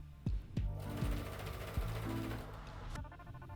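Sewing machine stitching over a seam on a summer A-line midi dress, a rapid mechanical whir with a few sharp knocks as the stitching starts and stops.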